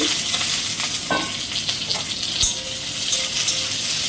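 Chopped onion and capsicum fry on a high flame, a steady close sizzle running throughout with a few scrapes and a light metallic tap partway through.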